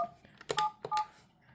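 Short, clear keypad dialing tones from a 3CX VoIP desk phone, several quick beeps in an uneven rhythm, close and fairly quiet.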